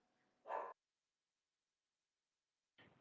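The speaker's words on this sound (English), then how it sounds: "I'm so sorry for my dog barking" A dog barks indoors, two short separate bursts, the first louder and the second quieter about two seconds later, with silence between.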